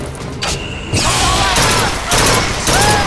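A gun fired in a first-person shooter video game, dense loud bursts of gunfire and booms layered over game sound effects, continuous and close.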